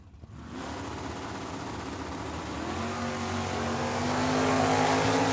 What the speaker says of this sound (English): Camaro versus Mustang. Let's see it. Camaro going to leave first. Mustang going to try and chase him down.